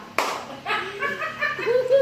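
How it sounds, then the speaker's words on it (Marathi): One sharp hand clap rings out during a family number-counting game at home, followed by chuckles and several voices talking. "टाळी वाजव"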